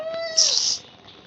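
A single clear cat meow in Minecraft, rising then sliding down, short and close with nothing else around it.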